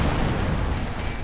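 A loud, close explosion in the World War II strategy game Company of Heroes 2, a dense broadband blast with rumbling low end that fills the short moment without any voices over it.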